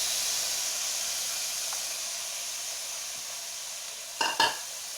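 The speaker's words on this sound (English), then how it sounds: "then you drop in your tomatoes" Tomatoes are dropped into a hot pan and stirred, giving a steady, even sizzle and hiss throughout, with two brief louder scraping bursts of stirring near the end.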